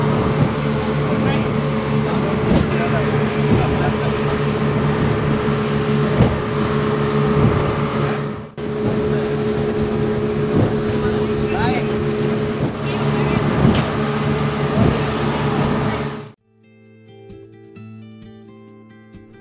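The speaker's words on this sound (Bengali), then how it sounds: "এইখান থেকে এবার আমরা স্পিড বোটে করে চলে যাব কোরাল আইল্যান্ড" A speedboat races across open water toward Coral Island off Pattaya, its engine roaring loud and steady under heavy wind buffeting, with voices speaking over it; the roar stops abruptly near the end.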